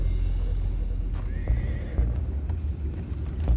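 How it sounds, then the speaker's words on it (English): In Red Dead Redemption 2, horses whinny with a drawn-out neigh over a dense rumble of clip-clopping hooves as the herd is driven along, loud and close with no talk. "I have the horses under control."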